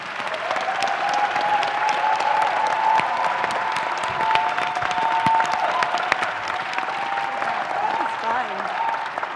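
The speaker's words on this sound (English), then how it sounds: "Give all of our panelists a round of applause." Steady, loud applause from a live audience at a panel discussion on faith and spirituality in Atlanta, sustained throughout with crowd noise and a faint voice running over it.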